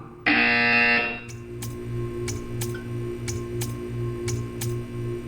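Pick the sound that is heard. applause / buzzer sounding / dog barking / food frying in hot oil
buzzer sounding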